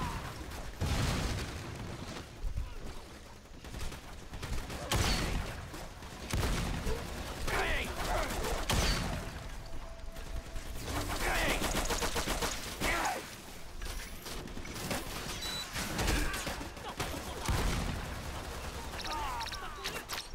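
Shotgun blasts and other gunfire ring out in the video game Lost Planet 2 during co-op play, with heavy booms and mechanical clatter over dense, continuous game sound, and voices talking at times.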